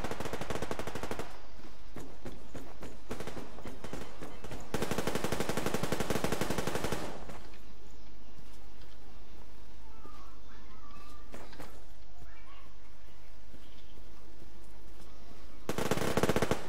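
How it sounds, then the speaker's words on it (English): Gunfire breaks out nearby in the Survarium video game, with loud bursts of rapid automatic shots in several clusters, separated by quieter stretches of ambient noise and faint scattered shots. "I hear some shooting not far from me."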